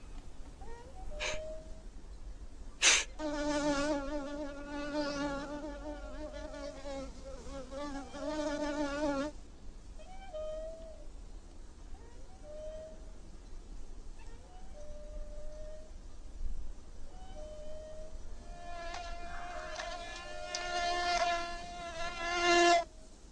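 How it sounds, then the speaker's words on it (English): A fly buzzes close by in a quiet Western standoff scene, faint, intermittent whining drones rising and falling over low ambient hush, with a brief sharp click partway through. "and the buzzing of a fly"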